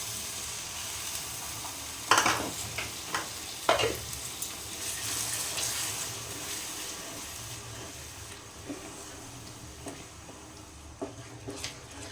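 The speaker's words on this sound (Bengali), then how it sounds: "এই ছোটো বাটিতে 1 বাটির মতো জল দেবো।" Masala for matar paneer frying in a pan, with water poured in: a steady sizzling hiss runs throughout, broken by a few sharp clatters and stirring scrapes, with no talking.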